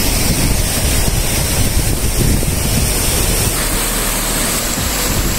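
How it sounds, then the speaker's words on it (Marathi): A small waterfall along a forest trail, its water spilling down in a constant, dense rush of noise heard close by with no voices, steady from start to finish. "हा एक बघा अतिशय सुंदर असा धबधबा, छोटा आहे परंतु अतिशय सुंदर असा आहे आणि इथून पाणी पुढं असं खाली जात आहे"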